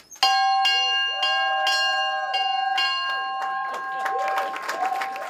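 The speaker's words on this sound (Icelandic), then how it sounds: "Klukkan 9:30 í morgun hringdi bjalla kauphallarinnar." A stock exchange opening bell rings in repeated sharp metallic strokes with long sustained tones, loud and near, followed by scattered applause from a crowd.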